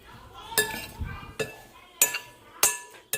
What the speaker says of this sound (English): we're just going to go ahead and mix this up